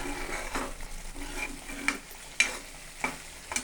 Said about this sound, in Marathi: फक्त कांदा टमाटर ची ग्रेव्ही आहे हे छान असं हलवून घेऊया